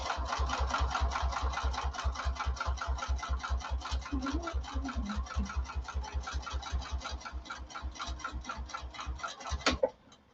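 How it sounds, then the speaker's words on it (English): A sewing machine stitches fabric in a fast, even run of close, regular mechanical ticks lasting nearly ten seconds, then stops abruptly with a final clunk. "I'm going to sew down the other side at 1/8 of an inch"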